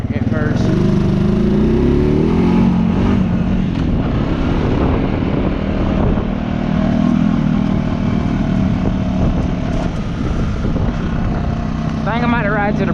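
An off-road vehicle churns through mud in a creek with a loud, steady engine drone and rising revs as its tires spin, and a voice talks over it.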